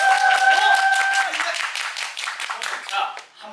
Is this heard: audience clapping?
yes